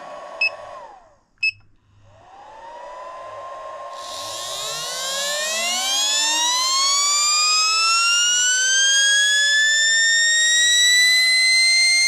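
A brushed modified RC motor, an LRP 10-turn double, spins up on a dyno with a rising, high-pitched whine that climbs to about 42,000 RPM and holds at a loud scream, after a couple of brief clicks.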